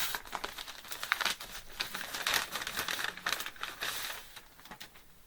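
Packaging crinkles and rustles as a subscription box from a quilting boutique is opened, close and fairly quiet, with bursts of crumpling paper or plastic throughout and no talking.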